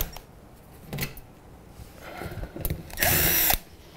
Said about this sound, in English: In this situation, there's drywall screws. That's why I have my drill.